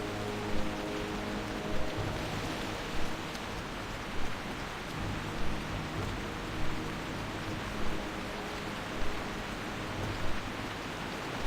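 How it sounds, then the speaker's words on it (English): Heavy in-game rain pours in World of Warcraft, a dense steady hiss that fills the whole stretch, with soft regular thumps recurring about every second and a quarter beneath it. "It's raining too much."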